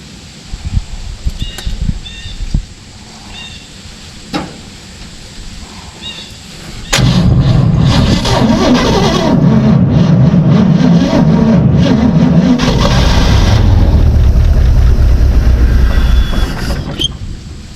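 A 1956 Chevy sits with a few faint clicks and knocks at first. Then its engine fires and runs loud and rough up close, with a rumbling, uneven idle for about ten seconds.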